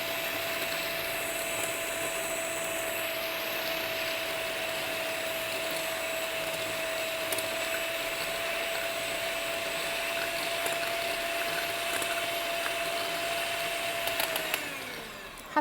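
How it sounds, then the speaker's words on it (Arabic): Electric whisk frothing milk for a cappuccino, a steady continuous motor whine holding one even pitch at close range for the whole stretch, with no voices, then slowing and cutting off at the very end. "بعد راح ابقى اخفق بها الى ان اوصل بها الى الشكل الرغوي"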